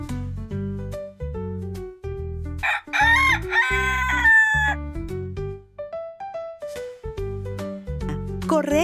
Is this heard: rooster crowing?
yes